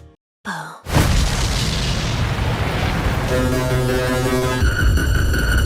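A sudden deep blast bursts in after a brief hush, followed by a sustained roaring rumble with chaotic crackling and tonal hum layered on top, from explosions in the anime film Chainsaw Man: Reze Arc.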